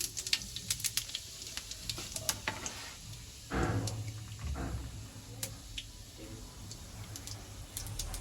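Half a teaspoon of cumin seeds frying in hot oil for a kadhi pakora tempering: quick, scattered crackles and small pops, close and fairly faint, with one fuller sizzling burst partway through.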